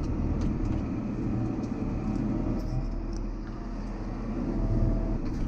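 Tractor with a Vario gearbox reversing, giving a steady, loud, low engine drone that holds evenly throughout with no talk.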